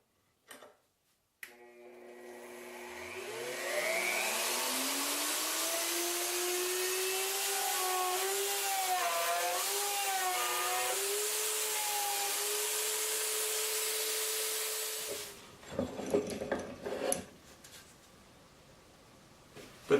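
Mortising machine running on wood, starting with a clunk, then spinning up into a steady high whine with rising pitch and a slight warble, running about thirteen seconds before clattering and knocking as it stops.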